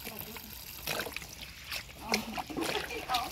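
Puffball mushrooms (hed phao) are washed in water, giving soft splashes, sloshing and trickling close by, with someone talking over the watery sounds.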